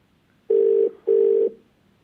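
During a live call on a television talk show, a telephone line gives two steady electronic tone bursts with a short pause between them, fairly faint over quiet background hiss.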